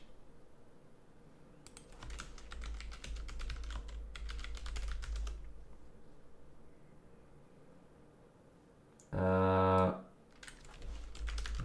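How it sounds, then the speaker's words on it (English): Typing on a computer keyboard fills about thirty seconds, heard here as steady rapid clicking in bursts at moderate level over background hiss, broken by one short loud tonal blip near the end. "just 30 seconds of typing."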